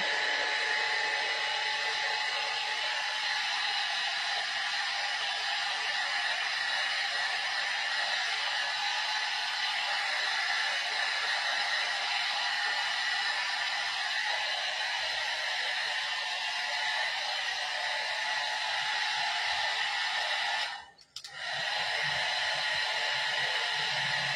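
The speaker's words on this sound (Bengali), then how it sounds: "একটু চুলটাকে আমি ড্রায়ার করি।" A hair dryer blows on hair during a home self-haircut, a steady, close, even whoosh that runs without a break except for one brief dip near the end. No one speaks.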